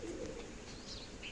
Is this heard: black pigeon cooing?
yes